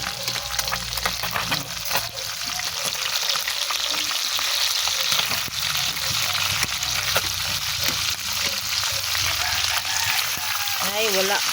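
Fish frying in a home pan gives off a continuous, loud hiss and crackle with occasional spatters, while people talk over it now and then.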